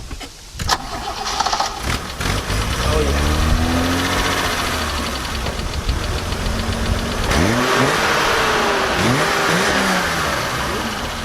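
A BMW E30 325e with a single-tip exhaust cranks and fires up, then revs in several rising and falling surges at close range, its idle rough between blips; a voices brief approval.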